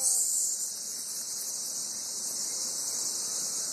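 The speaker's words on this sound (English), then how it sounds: "The tree is covered, top to bottom, with cicadas." A swarm of cicadas covering a cherry tree gives a continuous high, shrill buzzing drone that stays loud and steady throughout, with no voices.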